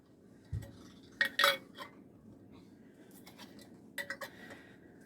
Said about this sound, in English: I'm going to put my rims on, or the inside lids